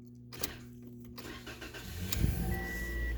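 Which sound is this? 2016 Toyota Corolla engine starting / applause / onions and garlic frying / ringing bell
2016 Toyota Corolla engine starting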